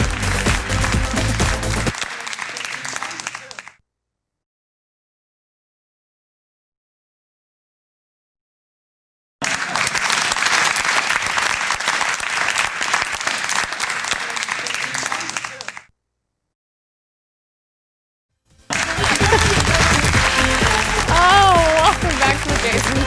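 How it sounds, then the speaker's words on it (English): Canned applause on a morning TV show plays in three loud bursts of steady clapping, each several seconds long, with dead silence between them. "Jeff accidentally turned on the faux applause too quickly"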